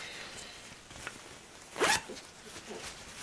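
A regular zipper sewn into a cosplay garment is pulled once in a quick, raspy zip lasting a fraction of a second, close by against a quiet room.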